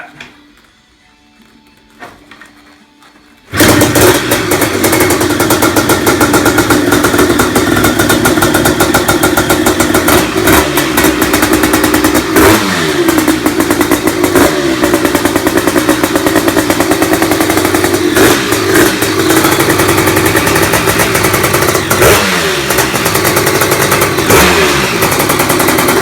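A Honda TRX500R quad with a counterbalanced CR500 two-stroke engine fires up after a brief quiet moment, then runs loud and raspy close by, with repeated throttle blips rising over a steady crackling idle.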